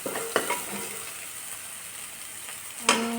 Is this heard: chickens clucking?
no